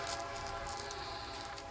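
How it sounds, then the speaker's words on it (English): A passing train, likely Amtrak, in Villa Rica sounds its horn continuously throughout, a steady rumbling blast heard from inside a city council meeting room, loud and unbroken across the whole stretch. "A train in Villa Rica, what a surprise."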